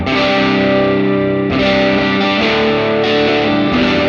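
Electric guitar through a Silvertone 1484 amp preset, humbucker bridge pickup, played with a clean tone: sustained strummed chords ringing loud and continuous, restruck about every second and a half with no talking.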